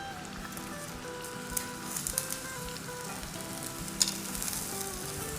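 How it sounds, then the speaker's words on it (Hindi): Onions sizzle in oil on a cast iron tawa, a steady close frying hiss with a few sharper crackles and pops partway through, no voices. "इसके ऊपर थोड़ा सा ऑयल ड्रिजल करेंगे और अब इसके ऊपर कुछ प्याज रख देंगे"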